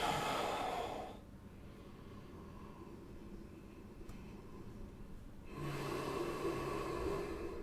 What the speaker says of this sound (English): from here you want to breathe in deeply